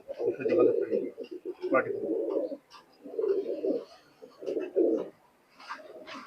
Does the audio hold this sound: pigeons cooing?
yes